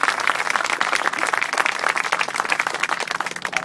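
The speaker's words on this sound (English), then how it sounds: "If you could give the staff a great round of applause." An audience applauds hospital staff at an event, with dense, sustained clapping from a crowd that stays loud and even from start to finish.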